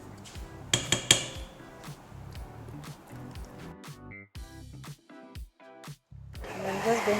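Blended durian pulp is stirred into whipped cream in a bowl, giving scraping and clinking of a utensil against the bowl with soft squishy mixing, close and fairly quiet.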